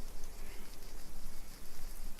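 Steady, dense rainfall in the horror visual novel The Letter, a continuous close hiss of drops on a surface that holds even throughout with no other sounds.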